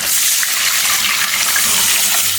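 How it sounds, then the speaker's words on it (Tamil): About 400 ml of water poured into a pan while making rava upma, a steady loud gushing splash that runs unbroken and close throughout. "இதுக்கப்புறம் ஒரு தண்ணி ஊற்றணும்"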